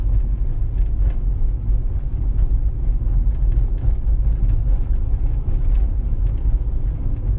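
Steady engine and road noise from a car cruising in third gear at about 40 km/h along a driving-exam route in Vinnytsia, a continuous low rumble with no talk.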